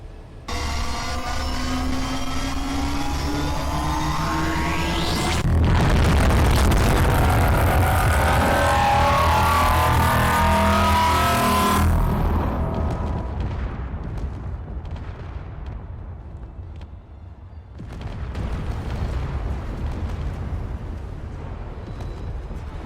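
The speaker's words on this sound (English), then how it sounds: "Now I'm going to fire at a shielded StarDestroyer just because I love this weapon." Modded weapon fire against a shielded Star Destroyer in the Space Engineers game, a long roaring barrage of booming, crackling blasts with rising whines, then fading into lower rumbling and scattered impacts.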